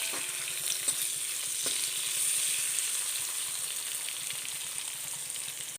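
Sliced onion sizzles in a pan with frying cumin and garlic for a Kerala bitter gourd stir-fry, a constant close hiss with occasional light stirring clicks, cutting off abruptly at the end.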